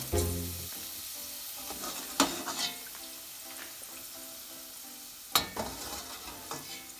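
Homemade chips fry in a pan of hot oil with a soft, continuous sizzle, broken by a few sharp clatters and scrapes as they are quickly scooped out.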